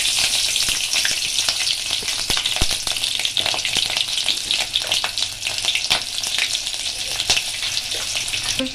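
Whole green and dried chillies, small cardamom pods, a cinnamon stick and two bay leaves sizzling in hot oil for a chana dal tempering, a close, steady crackling fry with occasional pops and stirring clicks, no voices.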